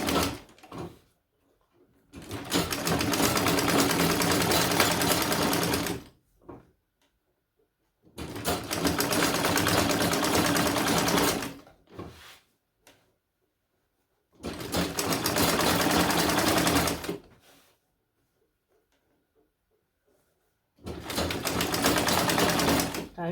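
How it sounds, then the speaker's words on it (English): A sewing machine stitches round the hem of an A-line dress for an 18-month-old baby in four loud, close bursts of steady whirring, each several seconds long and separated by short quiet pauses. "I'm sewing round now, starting from the place, the 1 inch that I marked."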